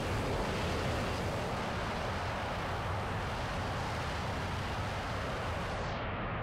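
Water waves roll across a War Thunder game map, a continuous broad wash of surf and wind-like rush at even loudness that fades slightly at the end.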